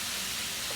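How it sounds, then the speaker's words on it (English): Chicken sizzles in a hot pan, a steady close, bright hiss with no breaks for a brief moment. "Hear that, guys? I love to hear that sizzle."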